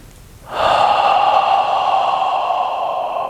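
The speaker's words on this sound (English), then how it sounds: "Smooth, deep belly breathing." One smooth, deep belly breath is drawn in close to the microphone. It rises quickly and holds as a steady airy rush for about three seconds.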